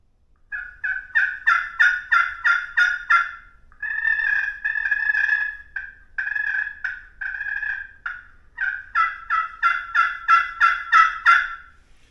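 A slate turkey call worked with a striker: loud, rhythmic series of yelps, then longer purring clucks, then another fast run of yelps, close and alone.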